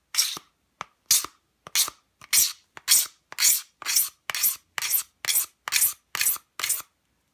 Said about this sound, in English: you're actually taking off little shavings of the Kydex